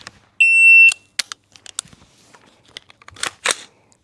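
A shot timer gives one loud, sharp electronic beep of about half a second, followed by scattered faint clicks and handling noise.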